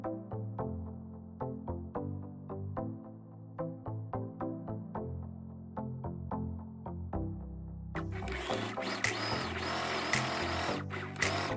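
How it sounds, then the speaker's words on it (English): A sewing machine runs in short, even bursts of rapid stitching along a tote bag lining seam, then switches to one long continuous run, close and steady. "Sew with a 1 cm seam allowance."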